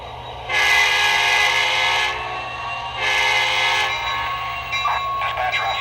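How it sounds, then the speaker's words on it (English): An American Flyer SD70ACe model locomotive sounding two long horn blasts over a steady rolling rumble, followed by softer clanking and mechanical effects, close and fairly loud. "that's going to automate some of the sounds for the locomotive"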